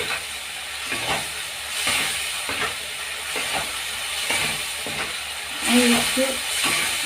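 Tomato paste and spices being stirred in a frying pan for a chanda fish curry, a loud steamy hiss with repeated scraping strokes of a spatula, one sharper clatter near the end.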